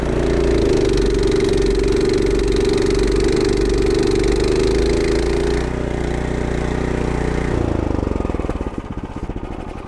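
Evoline two-stage tracked snowblower, Standard series, with its 6.5 hp engine running hard in fifth gear: a loud close steady engine drone and rattle that shifts pitch midway, then eases near the end.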